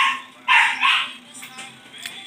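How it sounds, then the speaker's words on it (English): A dog barking indoors in a small, hot room, two sharp close barks followed by a few fainter yips and whines. "my dog is going crazy."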